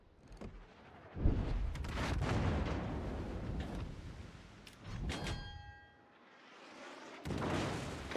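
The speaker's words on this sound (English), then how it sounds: "Concentrate fire on the enemy warship." Naval artillery from a warship battle video game: several loud heavy booms and thuds, one after another, with rumbling decay between them and a short quiet gap before a final blast.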